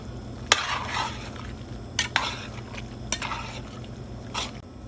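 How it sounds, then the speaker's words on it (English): Thai basil is stirred into sizzling Taiwanese three cup chicken with vegetables, a steady frying hiss under sharp utensil scrapes and clacks against the pan every second or so, close and alone. "I'm going to stir that in and turn off the burner"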